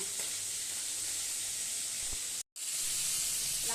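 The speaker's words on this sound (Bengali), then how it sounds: "এদিকে ভাত বসিয়ে দিয়েছি, দেখো ভাত হচ্ছে এদিকে, হয়ে যাবে এক্ষুনি রান্না।" Rice cooking in a pot on a stove lets off a soft, steady steam hiss that runs almost unbroken, with one brief silent gap.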